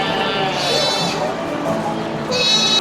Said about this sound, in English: And we got some sheep.